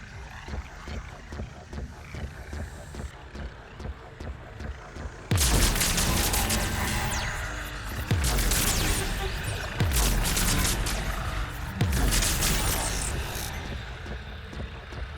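Heavy bursts of gunfire and booming impacts in the Mass Effect Legendary Edition video game, breaking out abruptly after a quieter electronic hum and repeating in loud, rapid volleys.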